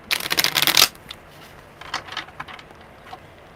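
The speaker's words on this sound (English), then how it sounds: "One more good shuffle." Tarot cards are riffled in a quick, dense burst lasting under a second, followed by a few softer taps and slides of the deck, close and without talk.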